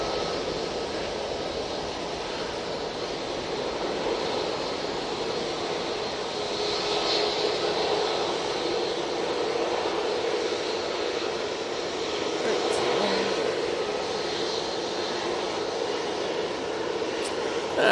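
A Qatar Airways jet aircraft arriving at Manchester Airport, a broad steady roar of engine noise holding at moderate distance and swelling slightly through the middle.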